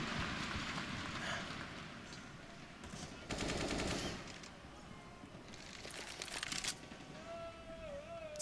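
Automatic rifle fire in CS:GO on the Train map during a professional match, bursts of rapid shots crackling in the middle of the clip, fairly faint beneath a steady hiss of ambient noise.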